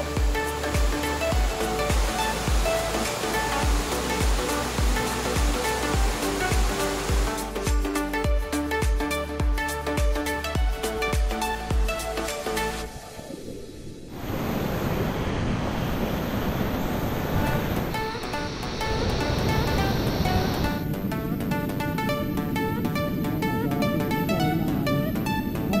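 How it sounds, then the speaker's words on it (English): Rhythmic music plays for about half the time, then gives way to a loud, continuous roaring rush of falling water at Lata Medang Waterfall, Kuala Kubu Bahru. "that's the waterfall."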